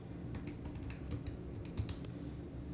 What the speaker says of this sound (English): let's type that in